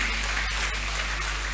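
A church congregation applauding the Lord during a Sunday worship service, a dense continuous wash of many hands clapping together, steady and full for the whole moment.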